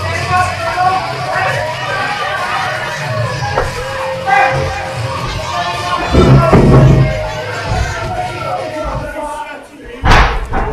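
A wrestling arena crowd cheers and roars steadily at an event's entrance, with a louder swell of noise and a couple of heavy thuds near the middle and again near the end.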